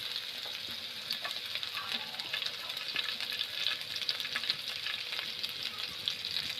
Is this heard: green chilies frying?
yes